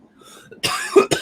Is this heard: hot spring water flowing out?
no